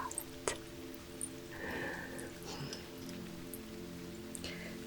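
Rain falling steadily at a quiet, soft level, a faint wash with a few scattered drips and ticks close by, and no voice.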